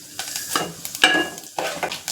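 Crackling sizzle of onion, garlic and green chillies frying in hot oil in a pan, with a few stirring scrapes and bursts of louder spitting oil.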